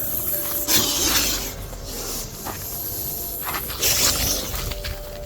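A good-sized snake hisses in loud, breathy bursts as it is set free outdoors, the strongest blasts near the start and again toward the end over steady background noise.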